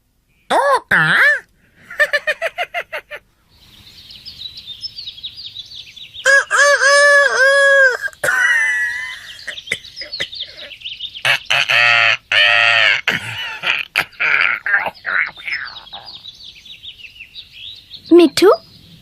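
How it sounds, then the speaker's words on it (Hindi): A parrot from a zoo gives loud harsh squawks and chattering calls in repeated bursts, close to the listener, with people talking between and over the calls. "ओह तोता, बहुत प्यारा है।"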